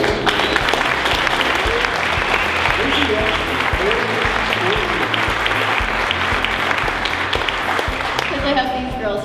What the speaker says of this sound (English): can we all give a round of applause to Lindsay?